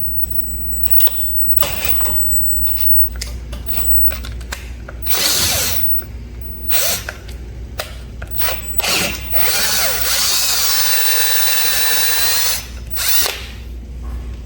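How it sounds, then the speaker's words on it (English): A drill bores out a stripped bolt hole to prepare it for a Heli-Coil thread repair, in close bursts of whirring with grinding and ratcheting between them and a few short pauses. "I'll take the provided drill bit and I will drill it in"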